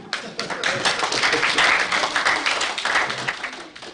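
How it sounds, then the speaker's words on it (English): An audience claps for a person named Doreen at a report event, a lively burst of mixed claps from many hands that tapers off after about four seconds, with some chatter underneath. "Can we clap for Doreen?"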